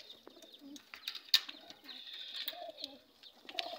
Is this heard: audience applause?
no